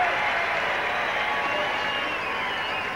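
Hockey crowd at a 1978 WHA game between the New England Whalers and Houston Aeros, a continuous broad roar of cheering and applause filling the arena, steady and loud throughout the short stretch.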